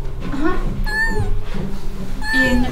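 A cat meows indoors, giving two or three drawn-out, wavering cries close by, with some background noise between them.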